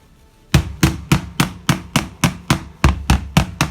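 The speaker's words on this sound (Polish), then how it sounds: "Tu mam taki gumowy młotek, żeby wzruszyć ziemię." A rubber mallet taps the sides of plant pots holding banana plants to loosen the soil. About a dozen sharp, close knocks come in a steady, even rhythm with no talking.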